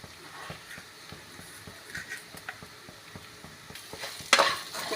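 Salt, deggi chili and sugar are stirred into a tomato chutney in a pan, with a steady gentle sizzle and regular light scraping ticks of the spoon, and a brief louder hiss near the end.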